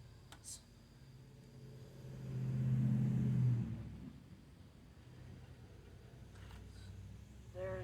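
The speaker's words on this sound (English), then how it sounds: "that was a big jumbo diesel truck just went by" A big diesel truck passes by outdoors, its engine rumble swelling from a distance to a brief, moderately loud peak, then fading away as it recedes.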